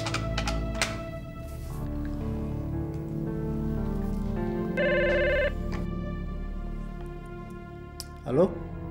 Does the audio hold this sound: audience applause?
no